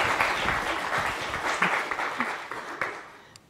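Lecture-hall audience applause welcoming historian Robin Jensen at a 175th anniversary lecture, steady dense clapping from a sizeable crowd that gradually thins and fades out.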